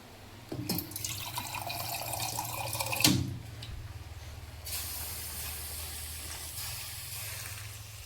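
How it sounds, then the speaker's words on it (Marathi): Water is poured into a cooking pan while making a sweet potato dish. A few seconds of splashing pour are followed by a quieter, lingering hiss. "मला आता थोडंसं ऍड करायला लागेल पाणी."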